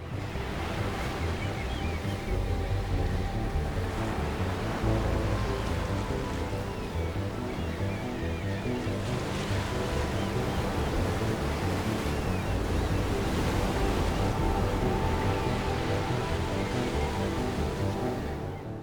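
Ocean waves break and surge against Bermuda's rocky shore in a continuous, loud wash of surf, with wind buffeting the microphone throughout.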